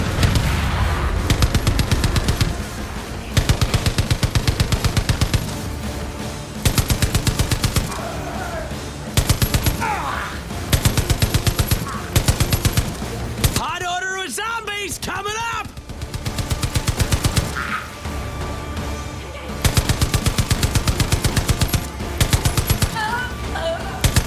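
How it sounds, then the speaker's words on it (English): Rapid bursts of high-powered machine gun fire in the zombie mode of Far Cry 5, loud and near, chattering in long strings with short pauses between volleys. "A fucking high-powered machine gun?"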